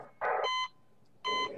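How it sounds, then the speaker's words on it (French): Alarm bell in the video game Prison Tycoon 2 sounds as two short electronic ringing bursts, loud and close, separated by a brief quiet gap. "Deux sonneries."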